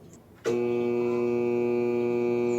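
A jet water pump hums steadily after being plugged in, a loud sustained tonal drone that starts abruptly and holds without change.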